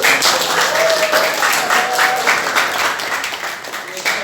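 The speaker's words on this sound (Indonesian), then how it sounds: "Oke, tepuk tangan." A classroom of students applauding together, a steady dense wash of clapping held for a few seconds with voices mixed in.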